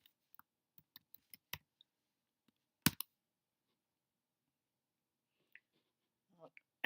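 Typing on a computer keyboard in a quiet room, with scattered faint key clicks and one sharper tap in the middle, sparse and irregular.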